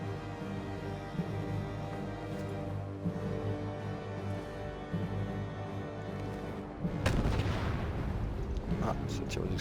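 Explosive weapons firing in a war video game, a dense continuous barrage of booming blasts with a sharper, louder burst partway through, heard alongside game ambience and a voice talking.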